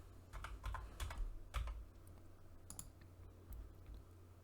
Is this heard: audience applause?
no